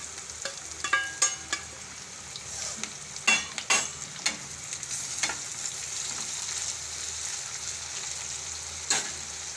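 Tomatoes going into hot oil for a capsicum and yogurt curry, a steady close sizzle of frying with scattered sharp clicks and stirring knocks in the first half, moderately quiet, no voices.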